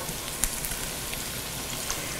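Shrimp hitting a hot pan with garlic, giving a steady, fairly quiet crackling sizzle throughout with a few sharper pops and no talking.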